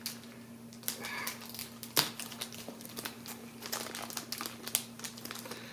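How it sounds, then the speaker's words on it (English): Crinkly plastic wrapping and tape being peeled and pulled off a model train package, close and continuous with irregular crackles and a sharp snap, over a steady low hum. "Plastic can be sometimes hard to get off these things."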